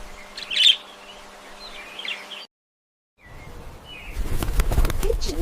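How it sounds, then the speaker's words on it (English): A pet budgie chirps in bright, quick calls early on, then falls silent before a burst of rougher, broadband fluttering noise. "budgie."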